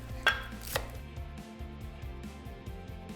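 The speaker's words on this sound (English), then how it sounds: "Now slice it up and chop it nice and small." A knife chopping vegetables small on a cutting board, with two sharper opening strikes followed by a steady, quick rhythm of close, crisp chops and no talking.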